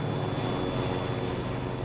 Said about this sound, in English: A small twin-engine turboprop designed for short regional flights.